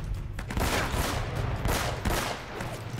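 Gunfire from the Uncharted video game: a dense, continuous volley of shots crackling loudly throughout, with overlapping bursts and no clear gaps, like a close-range firefight.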